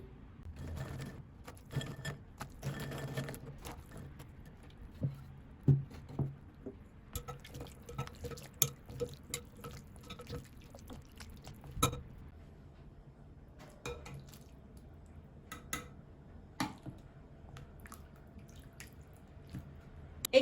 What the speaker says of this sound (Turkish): Şimdi içerisine pidelerimizi atıyoruz ve yumuşayıncaya kadar birkaç saniye bekletip içerisinden alıyoruz.